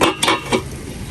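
Food being stirred in a cooking pot with a utensil, with a few quick scraping clinks in the first half-second before the sound settles into a softer, steady background.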